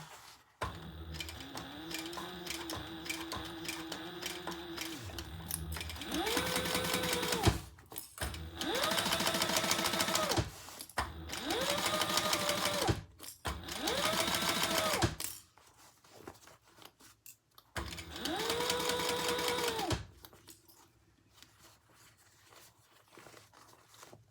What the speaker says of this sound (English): Now we're going to sew that together at the seam allowance in the pattern.